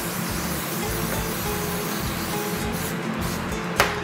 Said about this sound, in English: First thing you do is spray your sheet pan down first